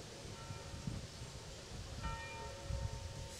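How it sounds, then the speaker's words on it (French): Church bells ringing faintly in the distance over open-air ambience at a pétanque tournament, a soft sustained tolling that lingers beneath the background murmur. "les cloches de l'église sont venues perturber Patrick Colomina."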